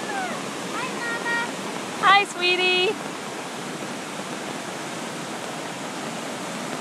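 Rushing water of a creek swollen by rain fills the scene as a steady, broadband wash, while a brief voice speaks over it partway through.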